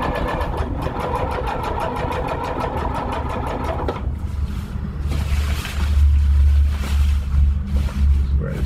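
A sewing machine stitches the ridgeline seam of a lightweight backpacking tarp with a rapid, loud, steady whir. The tone shifts and deepens partway through.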